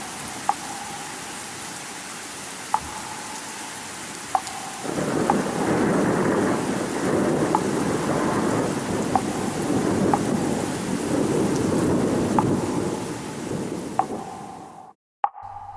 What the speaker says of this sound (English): The rain wasn't normal.